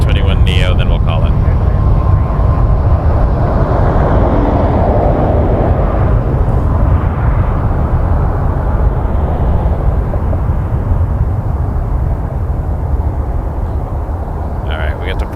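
TAP Air Portugal A321neo airliner at Toronto Pearson airport, a loud continuous broadband jet roar lasting throughout and easing slightly toward the end.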